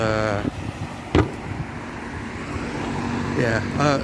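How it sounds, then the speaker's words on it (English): Cars pass on nearby roads at night, a steady traffic rumble with a couple of sharper swells, while a person talks over it. "Sorry about the background noise, there's a lot of cars around me."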